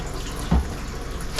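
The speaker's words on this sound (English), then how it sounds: "y'all are going to join me as I wash the first dish in the new kitchen" Water runs steadily from a kitchen faucet into a big, deep sink in a new off-grid cabin kitchen, a close hiss with a brief splash partway through.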